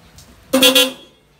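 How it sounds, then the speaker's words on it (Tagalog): Two horns wired together on a Mitsubishi Adventure sound at once, giving a short, loud, two-toned double honk up close that stands alone against quiet surroundings. "Testing two horns."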